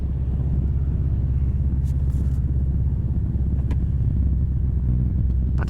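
Porsche with a manual gearbox pulling away from a stop with no throttle, a steady low engine rumble and road drone filling the cabin throughout, with no talk.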